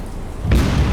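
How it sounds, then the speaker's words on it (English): Secondary explosion aboard a ship in a naval combat game set during the Dutch East Indies campaign: a sudden loud, deep boom bursts in midway and rolls on with a rumbling tail. "Oh, there's a secondary explosion."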